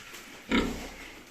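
Pigs being fattened on dry feed give a single short grunt, close and moderately loud over a low background hum.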